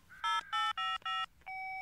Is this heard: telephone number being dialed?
yes